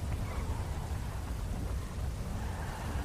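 Steady rain with rolling thunder in a city during a GTA roleplay game session, a dense, constant wash of downpour with low rumbles and no voices.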